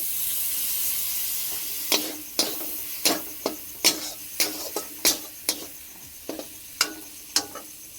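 Spatula strokes scrape and knock through masala frying with chopped tomato and salt in a pan, a dozen or so sharp close scrapes in a loose rhythm over a soft continuous sizzle.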